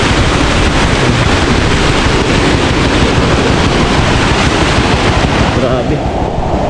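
Flooded creek overflowing its banks after heavy rain, with water flowing toward rice paddies, a loud, dense, continuous rushing roar heard up close with no break.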